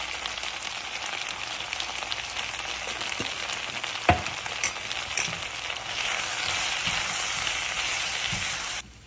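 Vegetables sizzle steadily in a hot pan after sambar powder goes in, a dense continuous frying hiss with a brief clink and stir sounds before the sizzling cuts off near the end.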